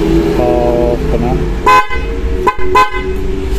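Two short blasts from a BMW Flosser snail-type electric horn, hung freely during a test, sound loud and close with a bright tonal blare, following a stretch of background speech.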